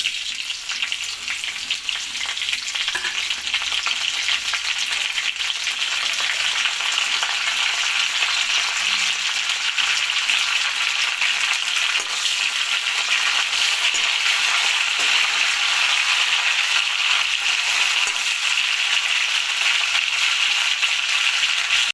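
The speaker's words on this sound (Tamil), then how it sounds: "இந்த ஸ்டேஜில் நம்ம தாளிப்புக்கு வச்ச எல்லாத்தையும் ஆட் பண்ணிக்கலாம்." Curry leaves, cumin, garlic and dried chilies sizzle loudly in hot oil as a tempering for a bottle gourd kootu, a steady close crackling hiss that stays even throughout, with no talk.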